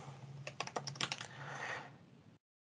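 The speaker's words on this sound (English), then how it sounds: "we could begin by typing." Quick, faint keystrokes on a computer keyboard, a short burst of distinct clicks followed by a softer run of typing, with no voices.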